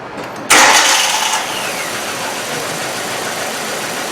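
A car engine with a misfire cranks and catches with a sudden loud burst, then settles into an uneven idle that rumbles on steadily close by.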